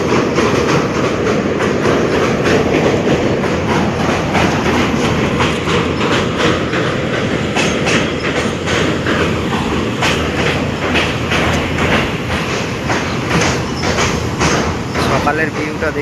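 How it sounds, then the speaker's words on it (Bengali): A train runs along a railway line near the Kansai bridge in the early morning, its loud steady rumble and rhythmic clickety-clack of wheels filling the whole stretch, with people talking over it. "ওই লাইনে ট্রেন যাচ্ছে"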